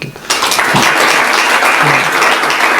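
Loud, dense audience applause at a business day event, a sustained roar of many hands clapping that starts abruptly and continues steadily at full level.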